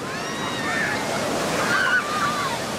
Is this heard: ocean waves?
yes